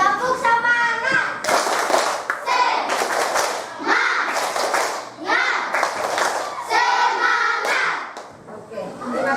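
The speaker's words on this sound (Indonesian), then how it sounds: "tepuk tangan dulu" Classroom clapping in a primary school science lesson, with bursts of rhythmic hand claps from a group of children, fairly close, mixed with children's voices and shouting.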